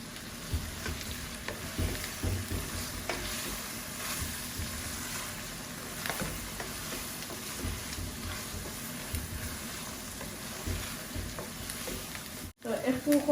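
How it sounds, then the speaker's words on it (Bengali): Sylheti atla khatta fish curry sautéing in a pan: steady loud sizzling and frying with stirring scrapes throughout, ending in a brief pause then a few clattering knocks. "কষানি হোক"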